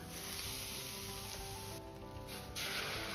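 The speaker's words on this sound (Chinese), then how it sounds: "最好是分3次浇入热油，这样香味更浓郁" Hot oil poured over chili flakes for cold noodle seasoning sizzles loudly and evenly, a steady close crackling hiss that dips briefly and then swells again as more oil goes in.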